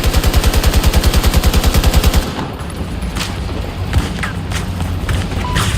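Fast rhythmic automatic gunfire in Battlefield 2042, loud and close for about two seconds, then a grenade explosion with scattered distant shots and battlefield din.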